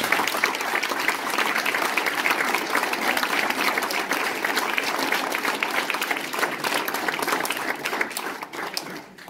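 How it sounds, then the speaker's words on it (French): A crowd claps at an exhibition opening in Orléans, loud, sustained applause from many hands that stays strong throughout and thins slightly only at the very end. "j'aimerais que vos applaudissements remercient tous les gens que j'ai cités et ceux que j'ai oubliés"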